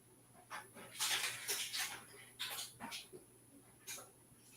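A dog whimpers and whines in a series of high, breathy yelps, some stretched and some clipped, rising and falling over a few seconds, fairly faint against a low steady hum in an indoor room.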